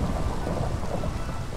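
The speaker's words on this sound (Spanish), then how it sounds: "que se quite ya la lluvia" Heavy rain pours steadily with a deep rumble of thunder in a video game, a dense, loud wash of noise filling the short moment with no voices.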